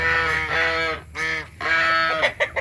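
Loud, nasal heritage-breed goose honks sound in several long calls with brief gaps, finishing with a few short, sharp honks close by.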